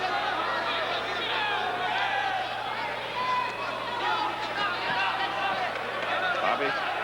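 A boxing crowd of more than 4,000 fills Memorial Auditorium at a Chacon–Limon title fight, a steady dense roar of murmuring and cheering voices that holds throughout, with indistinct talk over it.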